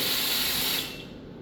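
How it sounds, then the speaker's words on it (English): Steam wand of an ECOFFEE T103 coffee machine blasts a loud, steady hiss of steam up close, then tapers off slightly as the jet continues more quietly. "This is steam part."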